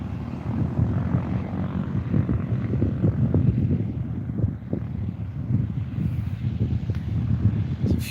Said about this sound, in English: Few planes on the move here.